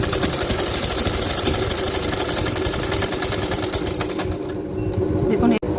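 A sewing machine stitches a dart on a lehenga blouse with a steady, fast mechanical whirr that holds loud and close, then eases near the end.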